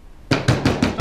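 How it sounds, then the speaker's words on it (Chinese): Four firm, evenly spaced knocks land on a door in quick succession after a short moment of quiet indoors. "张超，把门打开。"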